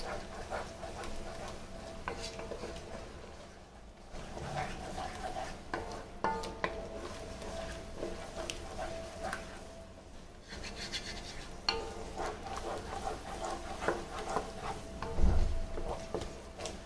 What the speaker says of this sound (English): Let's mix this masala nicely.